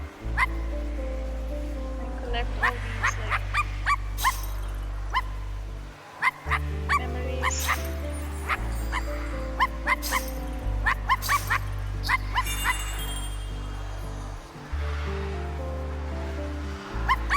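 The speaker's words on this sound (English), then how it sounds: "Now I can release the doggo." Dog barking in a video game, repeated sharp barks and yips in uneven bursts over a low droning tone, with a voice talking briefly.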